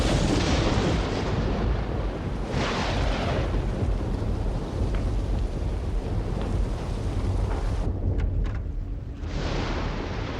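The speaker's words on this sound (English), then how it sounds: "The damn electrical storm's knocked everything out of commission." Long, loud rolling rumble of thunder from an electrical storm, broad and continuous with a few dips and swells, heard alone without talk.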